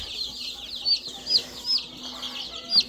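Quail chicks at a hatchery peep in a string of high, thin chirps, about six distinct calls in quick uneven succession, close and clear over a quiet background.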